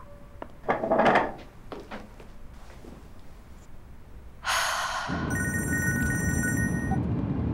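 A phone ringing tone starts midway, a steady electronic trill repeating after some breathing and shuffling noises at the start.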